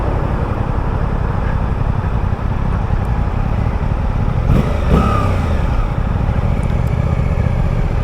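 A 2024 Suzuki GSX-8R motorcycle engine roars steadily while riding at speed, loud and constant with heavy wind rumble over it throughout.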